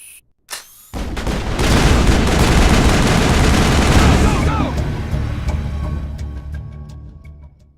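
Dense gunfire bursts out right after a soldier's order to open fire, a loud sustained fusillade of machine-gun and rifle shots with booms that fills several seconds, then thins into scattered cracks.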